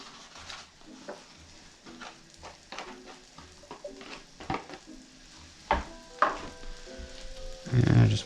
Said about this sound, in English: I just want to get it broken up in the pan as it starts to cook